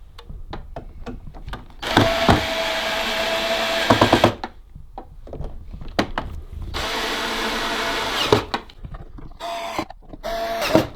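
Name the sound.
screwdriver tightening four screws on Samsung G9 monitor stand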